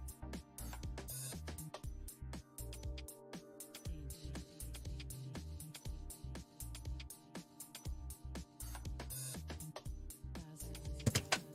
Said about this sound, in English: I don't like the sound the fan makes